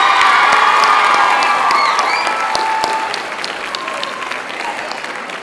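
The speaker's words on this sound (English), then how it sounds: "Give yourselves a round of applause." A crowd at a 2023 middle school promotion ceremony bursts into loud applause with cheering and whoops from students, the clapping dense at first and gradually thinning out.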